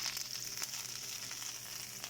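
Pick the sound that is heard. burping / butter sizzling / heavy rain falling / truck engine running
butter sizzling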